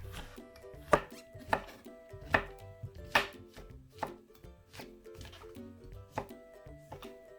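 Rhythmic knife chops slicing mushrooms on a cutting board, about a dozen sharp taps at a steady pace, close and clear with no talking.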